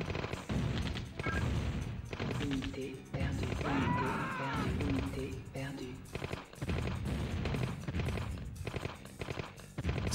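Cannon fire in the Command & Conquer strategy game, with repeated booms and crashing impacts packed among battle noise and sounding under steady talk.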